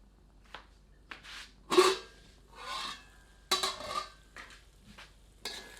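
A ladle stirs chicken curry in a pot for Himachali chicken anardana, giving intermittent scraping and rubbing strokes with light metal clinks, fairly quiet and close, with no speech.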